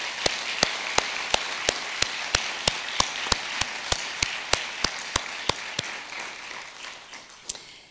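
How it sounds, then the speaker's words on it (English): Retirement ceremony audience in a Texas school district gives sustained applause; steady clapping noise is punctuated by about twenty sharp, evenly spaced loud claps from one nearby person, gradually thinning toward the end. "Let's give them a big round of applause."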